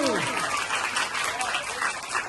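Applause for the winner of a primary school quiz competition: a dense, steady patter of many hands clapping together fills the short stretch at constant loudness.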